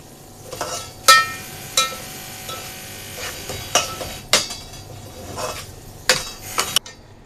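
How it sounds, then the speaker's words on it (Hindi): A spatula scrapes and taps in a pan as semolina is stirred and dry-roasted for egg halwa, in an irregular series of close, crisp knocks over a faint low background. "ऐसे चलाते रहेंगे और इसकी बुनाई करते रहेंगे।"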